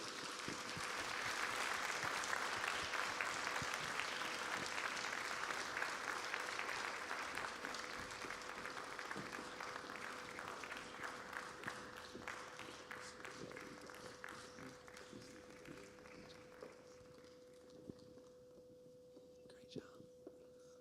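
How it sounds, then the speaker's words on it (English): An audience applauds graduating seniors at a high school engineering academy symposium, dense sustained clapping that starts full and slowly thins out over twenty seconds into scattered individual claps, with a steady hum underneath. "if you give them a round of applause"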